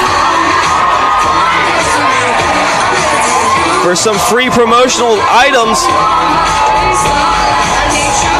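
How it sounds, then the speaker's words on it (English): A crowd of fans at a college baseball game in Tampa, shouting and cheering wildly for free promotional items, a loud continuous roar with children's shrieks and whoops peaking midway, under an announcer's voice. "Crowds are going absolutely berserk"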